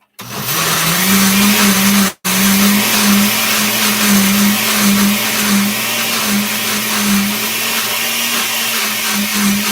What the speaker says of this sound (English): now it wants to puree more